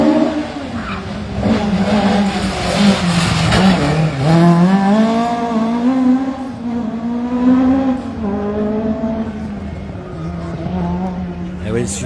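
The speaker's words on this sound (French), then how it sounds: "Et oui, super moteur Cosworth." A historic VHC rally car with a Cosworth engine passes at speed on a stage of the Rallye de Dieppe Normandie, its engine note rising and falling loudly and nearby, with tire noise and a commentator talking over it.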